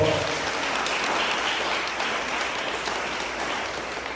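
Church audience giving a strong round of applause, dense continuous clapping from many people that holds steady and fairly loud for about four seconds with no speech on top.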